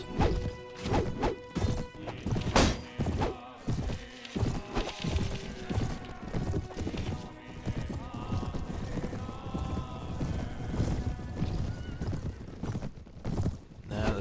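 Horses gallop in a medieval battle video game, hooves clip-clopping in a fast rhythm amid crashes, whacks and occasional whinnies, busy and continuous throughout.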